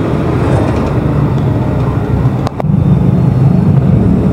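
A motorcycle engine restarts after stalling, then runs with a loud steady rumble close by. A sharp click or knock sounds partway through, with no talk.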